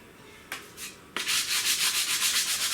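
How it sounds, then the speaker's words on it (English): Sandpaper rubbed by hand over a wooden mill stand: two brief scrapes, then a steady run of quick, rhythmic back-and-forth strokes, close and fairly loud with no talking. "Give it a quick hit with some sandpaper again"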